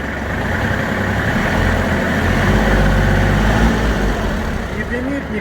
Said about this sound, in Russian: Трактор заводится идеально.